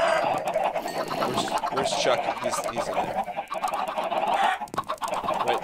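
Minecraft chickens cluck and squawk continuously at close range, loud and busy, while someone talks over the flock.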